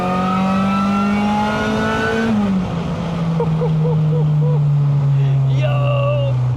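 A supercharged, stock-motor K24-swapped all-wheel-drive Honda mini-truck screams at high revs, its loud tone dipping and then holding steady while excited voices break in.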